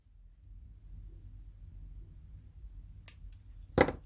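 Wire snipped during a Powerbeats 3 headphone battery replacement, two sharp, close cutter clicks near the end after a quiet stretch of faint room hum.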